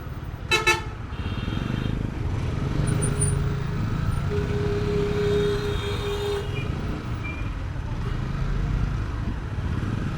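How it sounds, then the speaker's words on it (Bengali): Roadside traffic jam of cars and trucks on a road in Chittagong, Bangladesh: a close, insistent horn blast early on, then steady engine rumble and scattered horn tones over a continuous loud traffic din. "মানে কি পরিমাণ জ্যাম রাস্তায়, তাও আবার বৃহস্পতিবার, এখনো বিকেলও হয় নাই, একটা মারাত্মক জ্যাম।"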